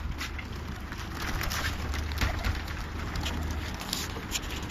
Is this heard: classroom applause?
no